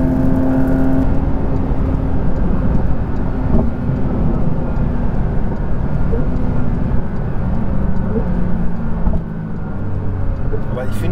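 A Porsche 911 GT3 992 engine drones loudly and steadily while driving, a deep continuous rumble with shifting tones, with people talking over it inside the car.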